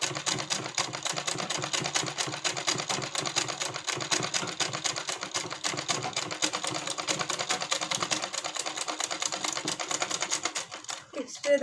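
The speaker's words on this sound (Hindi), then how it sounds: "इसी तरीके से सिलाई को चलाते जाना है।" Sewing machine stitching a collar onto a blouse back neck, a fast steady mechanical rattle running continuously and close for most of the stretch before slowing near the end.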